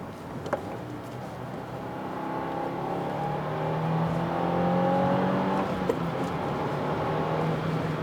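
A 2022 Subaru WRX's turbocharged engine pulls under acceleration while driving, a moderate, smooth drone rising gradually in pitch and loudness, heard from inside the car without talk.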